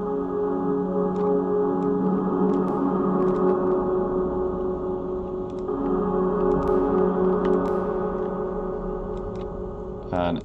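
Sustained synthesized tones with a reverb effect applied, produced in a 3D synth app, forming a steady layered chord with a smeared, lingering tail and scattered faint clicks over the top.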